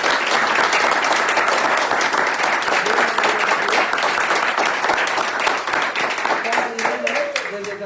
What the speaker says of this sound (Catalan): Aixeca Pere, que t'aplaudim.